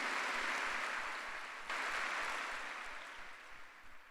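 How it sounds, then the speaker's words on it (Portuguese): A church congregation at a Sunday service claps together, a continuous hiss of applause that holds evenly, then gradually thins and fades toward the end. "dá um aplauso aí ao Senhor Jesus Cristo"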